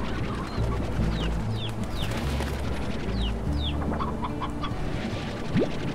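Chickens in the Slime Rancher video game clucking softly over a busy ambient game soundscape, with several short chirpy calls scattered throughout at moderate distance.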